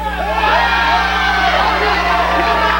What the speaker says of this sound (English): Crowd loves the idea. The fans say yeah.